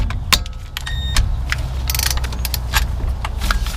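A ratchet wrench clicks while loosening the brake caliper bolts on a 2017 Ram 1500, short metallic ratcheting bursts and clanks of tools sounding close and fairly loud, with no voices.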